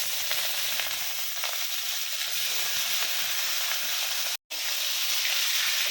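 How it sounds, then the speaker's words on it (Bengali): Shrimp frying in hot mustard oil, a loud, even sizzle close up that continues without pause apart from a brief dropout near the end. "আমি এবার চিংড়ি মাছগুলো ভেজে নেব।"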